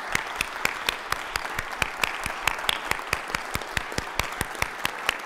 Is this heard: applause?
yes